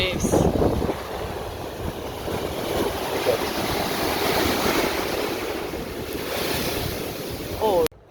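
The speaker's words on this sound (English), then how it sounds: "Whoa, look at the waves." Ocean surf pounds the shore at Daytona Beach, a loud, continuous roar of breaking waves with heavy wind buffeting the microphone, and a brief voice near the start.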